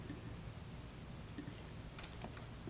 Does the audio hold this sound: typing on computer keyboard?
yes